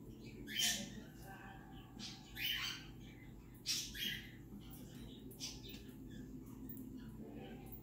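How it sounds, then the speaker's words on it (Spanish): Pet birds squawk and chirp indoors in several short, moderately close bursts, with a steady low background hum and a quiet, calm stretch toward the end. "Mis pájaros no estén grite y grite tanto como otros días"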